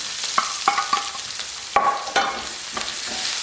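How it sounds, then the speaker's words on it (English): Chopped onion frying in hot oil with cumin seeds, a close, steady sizzle punctuated by several sharp scraping stirs, with no talking. "Okay, so we're gonna fry this onion for like 6 to 7 minutes"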